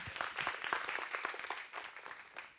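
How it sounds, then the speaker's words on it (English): An audience at a business leaders summit claps for a team of young innovators, a brief, moderately distant patter of applause that thins out and fades within a few seconds. "Please give them a round of applause."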